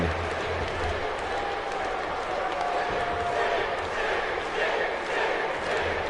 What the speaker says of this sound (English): Crowd liking that.